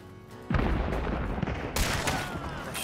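Gunfire cracks out in Hunt: Showdown, an abrupt loud shot followed by a booming, echoing tail and a second sharp report, close and forceful over game ambience.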